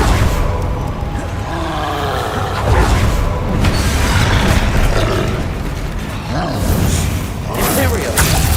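Bombarda spell explosions in the Hogwarts Legacy video game, booming blasts recurring through a loud, dense battle mix with spoken voices throughout.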